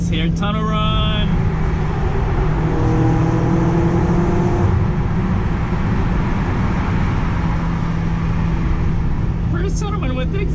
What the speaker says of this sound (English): First tunnel run with the exhaust.